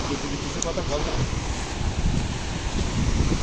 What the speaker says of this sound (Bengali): ঢেউয়ের শব্দ আমরা শুনতে পাচ্ছি, তোমরা শুনতে পাচ্ছ কিনা বলতে পারছি না।